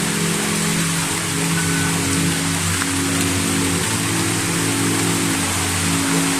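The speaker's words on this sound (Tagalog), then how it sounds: "ulan, malakas oh." Heavy rain pours steadily and loudly, a continuous dense hiss filling the whole stretch with a low rumbling undertone and no voices.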